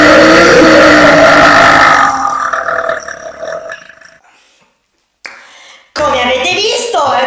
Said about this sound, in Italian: si aspetta che il rutto, ovvero l'aria del rutto, sale, dopodiché si rutta.